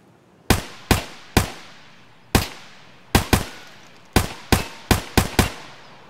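Eleven sharp gunshots from a weapon in Escape from Tarkov, fired singly and in quick pairs and bursts, each loud crack trailing into a short echoing decay, with no voices over them.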